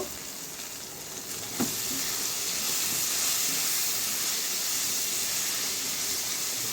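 Eggplant fries in a pan with a dense, continuous sizzle that swells louder after a brief clatter, close and steady, with no voices.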